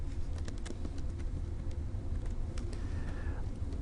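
Keys clatter on a computer keyboard as a short query is typed, soft scattered clicks over a steady low background hum, with no talking.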